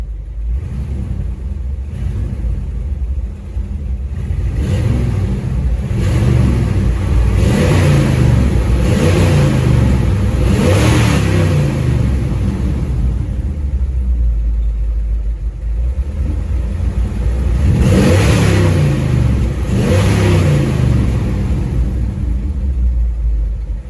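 A 1962 Chevrolet Impala SS 409 V8 with dual quad carburetors runs steadily at close range, its deep rumble swelling twice with brief revs before settling back to idle.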